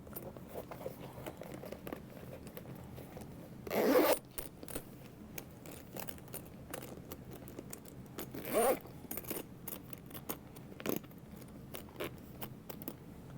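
A zipper is handled while sewing a small bag, with two distinct quick zipping strokes close by, separated by soft handling rustles and faint clicks of the metal pull.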